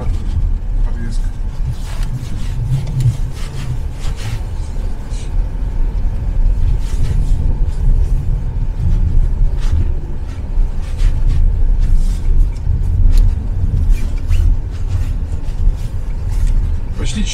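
An EXEED VX SUV drives over small bumps, giving a continuous low road rumble inside the cabin with repeated soft thumps from the suspension, and a person talks over it.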